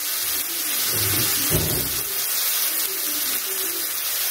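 Water pours steadily into a cooking pot over rice and vermicelli, a continuous rushing splash with a brief heavier gush in the middle, close and fairly loud.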